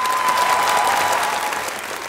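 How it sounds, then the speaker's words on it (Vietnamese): Audience applause at a televised Vietnamese dance competition show, a steady dense clapping that fills the whole stretch at even loudness and tapers slightly at the end, with no voices over it. "mọi người vỗ tay cho Titi"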